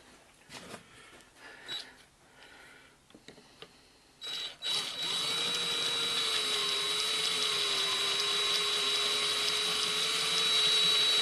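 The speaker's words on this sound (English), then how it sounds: "Alright, let's fire up the drill." A power drill boring out a rivet on a Ford Falcon XF door handle, starting with a few short bursts and clicks, then running continuously with a steady high whine at close range.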